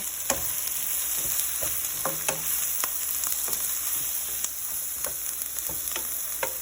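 Eggplant sizzles and fries in a hot pan, a steady close crackle with repeated sharp clinks and scrapes of a utensil stirring the pieces. It carries on without talking.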